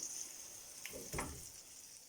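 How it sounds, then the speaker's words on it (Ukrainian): Zucchini pieces dredged in flour sizzle softly in a frying pan, a faint steady hiss broken by a few brief louder crackles and spatters, with no voices. "Обсмажую кабачки з обох боків."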